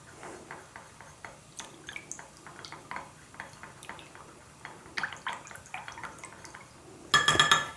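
Natural lip balm ingredients being mixed in a glass container, a run of light clinks, taps and drips spaced irregularly, with a sharper, louder clatter at the end.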